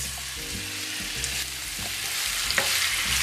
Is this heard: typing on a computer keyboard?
no